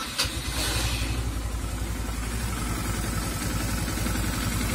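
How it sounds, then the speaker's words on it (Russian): A healthy 150cc motorcycle engine idles quietly and smoothly, a steady low even putter held close and alone with no voices. "Я хотел бы вам продемонстрировать, как работает нормальная живая 150-ка."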